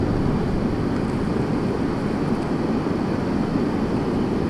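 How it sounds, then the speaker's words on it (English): Big river rapids crashing while rafting the Grand Canyon, a steady loud roar of churning whitewater mixed with wind buffeting the microphone, continuous with no break and no talk. "those are some big waves"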